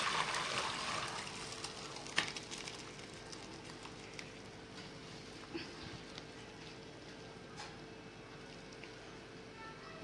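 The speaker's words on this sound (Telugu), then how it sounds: "వాటర్ అయితే వంపేద్దాం ఇప్పుడు" Water is poured off boiled rice for country chicken biryani, a soft splashing gush at first that settles into a faint, steady trickle.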